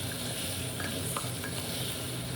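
Green peas fry in a little ghee, giving a steady soft sizzle with faint stirring scrapes throughout, close and continuous with no talking.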